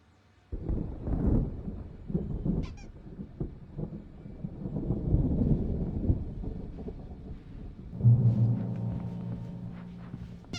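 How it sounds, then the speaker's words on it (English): Thunderstorm in the video game Alan Wake Remastered, deep rolling thunder rumbles that swell and fade across the clip, with a low honking tone near the end. "There's a storm coming. Oh, what a storm."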